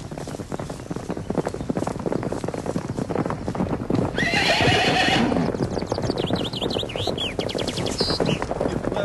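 Horses whinny loudly and close, with a long neigh midway and more calls later, over a busy patter of hooves clip-clopping throughout.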